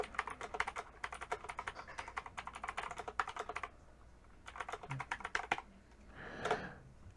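Close, quiet typing on a computer keyboard in Microsoft Word, rapid bursts of key clicks separated by brief pauses, then a soft rustle near the end.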